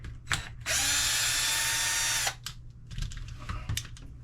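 A power driver backs screws out of an Arrma Limitless RC car near the diff cover, giving one loud, steady high whine of about a second and a half, with small ratcheting clicks and handling noises before and after.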